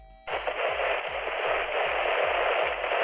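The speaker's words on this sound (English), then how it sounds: "I made the normal radio static" Steady, loud radio static made for a horror game fills the stretch after a brief quiet opening, a dense hiss that runs unbroken to the end over faint rhythmic thumps of background music.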